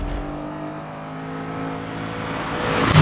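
A 4.4-litre V8 in a BMW Z8 coupe, derived from the E92 M3's V8 with a longer stroke, runs steadily with a deep harmonic hum that swells slightly toward the end, heard alone without talk.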